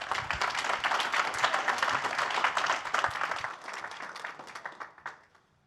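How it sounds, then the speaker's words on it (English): A conference audience applauds a real-estate technology innovation panel, brisk and fairly close at first, then thinning out and fading to a few last claps before silence. "And if we could give them a round of applause,"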